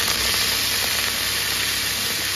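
Garlic frying in hot oil with khole saag added, a loud steady sizzle and hiss filling the whole stretch, close and continuous.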